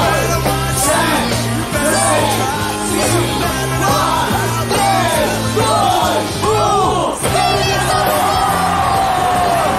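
A large crowd yells, whoops and cheers loudly and continuously at a New Year's Eve party in Times Square at night, with music-like tones and dense voices filling the space throughout.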